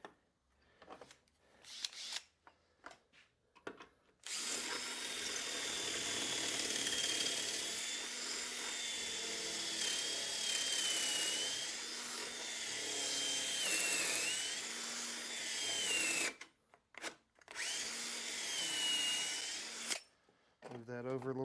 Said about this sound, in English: We're going to go ahead and put pocket holes in the 20-inch boards that go on the end.